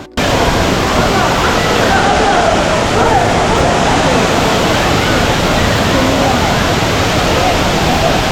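A waterfall at Courtallam, Tamil Nadu: loud, steady roar of rushing water fills the whole stretch without letup.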